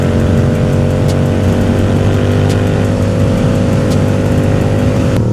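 A motorcycle on Pirelli Angel ST tires, ridden fast in hard, gusting wind, sounds like a loud, steady engine drone buried in constant roaring wind buffeting that never lets up.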